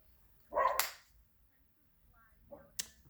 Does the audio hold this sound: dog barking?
yes